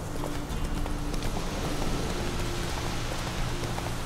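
Roach, the horse in The Witcher 3 video game, running with rapid rhythmic hoofbeats over a steady wash of falling rain.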